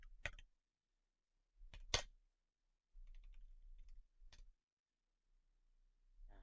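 Keys clatter on a computer keyboard as Python code is entered, in short separated bursts of clicks with quiet gaps, close and fairly faint, no voices.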